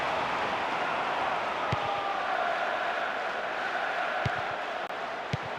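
A stadium crowd in the PES 2009 football video game roars steadily, forming a dense, continuous wall of cheering that holds at an even loudness from start to finish, with no voices standing out.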